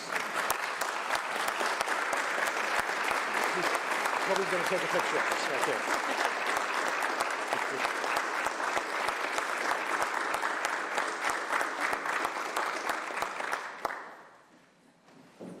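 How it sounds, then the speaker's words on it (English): A county commission chamber fills with sustained applause for school personnel, a broad steady clapping that runs for most of the span before cutting off abruptly near the end, with a voice speaking over it. "another round of applause for these school personnel, please"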